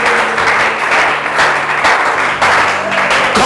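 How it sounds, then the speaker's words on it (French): A church congregation applauds loudly and steadily for a few seconds, a thick wash of many hands clapping together close by. "Est-ce qu'on peut acclamer le Seigneur?"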